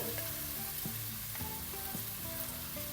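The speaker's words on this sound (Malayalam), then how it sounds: "2 വലിയ തക്കാളി അത് ഇട്ട് കൊടുക്കാം." Two large tomatoes dropped into a hot pan of oil with split green chillies, a steady close sizzle and frying crackle with light stirring clicks throughout.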